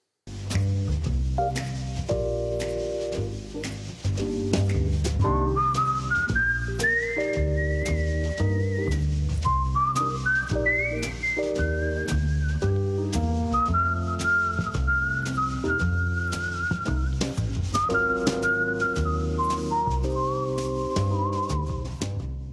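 A bright, melodic whistled tune in a jazzy style, carried over bass and piano accompaniment, loud and continuous throughout.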